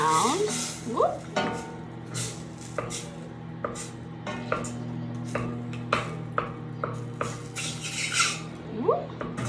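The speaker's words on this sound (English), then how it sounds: "Just put that in there with the butter. Mix that around." Butter melting with added flavorings in a pan, stirred around with a utensil that scrapes and taps irregularly against the pan over a steady low hum, with occasional clinks.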